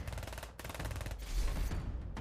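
Gunfire in the video game Stormgate, heard as quiet, rapid repeated shot bursts in a steady rhythm that break briefly and then resume, with no speech.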